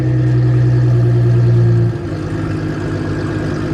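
A BMW F80 M3 engine running, a loud steady droning hum that drops abruptly to a lower, rougher idle about halfway through, with no talk.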